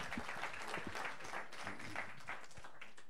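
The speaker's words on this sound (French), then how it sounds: "Could you put your hands together for the Lord" A church congregation applauding during a bilingual sermon, dense steady clapping from many hands filling the room, close and continuous, with a voice faintly under it.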